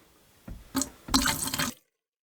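RV antifreeze poured into a kitchen sink trap in short bursts, three brief splashing gurgles growing longer, close and moderately loud, then silence.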